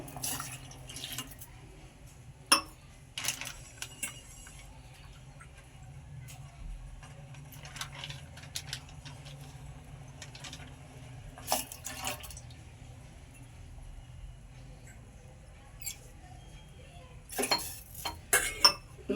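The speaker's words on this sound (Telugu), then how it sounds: "పాలు పోసుకుందాం." Milk poured into a pot of bubbling water while making tea in a home kitchen: faint, soft splashing over a low steady hum, with a few sharp clinks of utensils scattered throughout.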